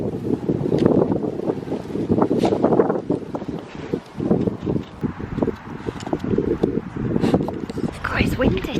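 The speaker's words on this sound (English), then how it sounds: "God, it's windy today." Strong wind gusting steadily in an outdoor garden, buffeting the microphone with loud low rumble throughout while someone talks over it.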